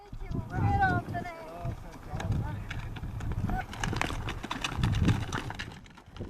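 Horse hooves clop along at a walking pace on a highland trail at 2400 m altitude under a voice talking throughout, with a brief whinny-like sound near the start.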